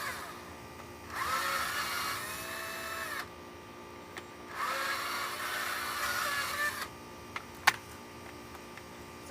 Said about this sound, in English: my drill is dying